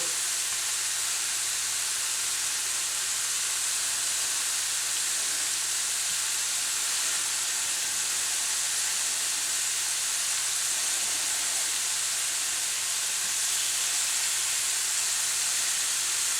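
Blackened shrimp for tacos sizzling in a crowded pan, a loud, steady frying hiss that holds unbroken throughout, with no voices.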